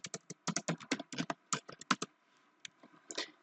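Rapid bursts of keystrokes on a computer keyboard as a nested IF formula is typed into Excel, close and crisp, with a brief pause before a few final taps.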